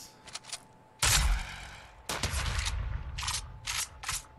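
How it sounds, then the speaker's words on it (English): Rocket launcher firing in the Fortnite video game, with loud bursts that each boom and then trail off, followed by a few shorter sharp cracks, with no talk over them. "Rocket launcher!"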